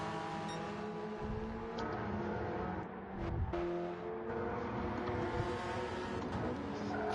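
Racing cars in a championship series sweep through a sequence of corners, engines droning and shifting pitch in a steady, continuous roar at a moderate distance, with a brief surge midway.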